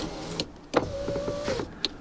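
The electric window motor in a 2003 Ford Fusion door whirs briefly after a click, a close, smooth mechanical hum lasting under a second before stopping with another soft click.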